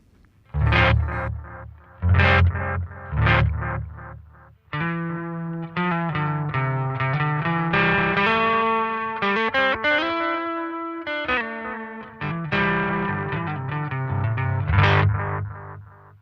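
An electric guitar played with distortion through an analog delay pedal rings out in loud strummed chords and sustained notes, each trailed by echoing repeats, with no talking.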